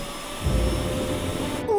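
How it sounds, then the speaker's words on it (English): A vacuum sucking water kicks in with a sudden roar and holds steady as a loud broadband whoosh over a constant electronic hum, with no talking. "A little vacuum action should do the trick."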